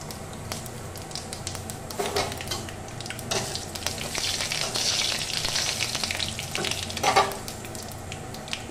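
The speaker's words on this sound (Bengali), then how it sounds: "বন্ধুরা, এবার আমি কড়াইতে দিয়ে দিচ্ছি 5 ফোড়ন।" Panch phoron spices frying in a kadai, a continuous crackling sizzle with scraping stirs that swells and flares toward the end, close and fairly loud, without speech.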